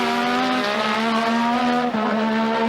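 Formula One race cars at the British Grand Prix at Brands Hatch, with a loud, sustained high engine whine that holds steady and shifts pitch slightly as the cars run close together, filling the whole stretch without talk.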